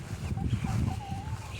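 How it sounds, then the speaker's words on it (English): Backyard chickens in a garden give soft, scattered clucks and murmurs close by, a low busy flock chatter with no talking. "See the birds? They're all coming to mama."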